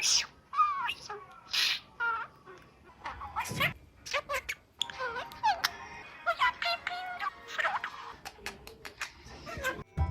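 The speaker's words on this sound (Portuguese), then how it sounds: "Periquito." Pet parakeet chirping and calling in short bright bursts and squawks at an irregular rhythm, fairly close, with gaps of quiet between the calls.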